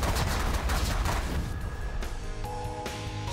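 Rapid bursts of gunfire from a space strategy game blast wall turrets, a dense crackling barrage of overlapping shots with sharp impacts and ringing tones near the end.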